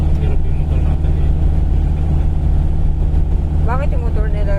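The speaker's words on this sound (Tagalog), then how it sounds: "Hirap yung motor natin eh." A motorcycle engine labours up a steep climb, its low, steady drone droning loud and close throughout, with a brief voice cutting in near the end.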